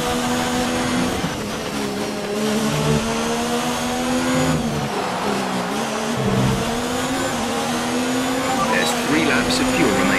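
Formula 1 race car engine in the F1 2019 video game, a steady high-pitched whine with shifting harmonics that holds continuously and loudly throughout, with faint engine-mode chatter in the background.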